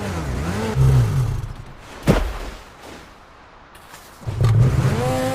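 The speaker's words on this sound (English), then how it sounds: "pick up on the roar of that engine to its fullest" A snowmobile engine in the Sledders video game revs loudly in two bursts with rising and falling pitch, separated by a sharp thump and a quieter stretch of snow and engine noise.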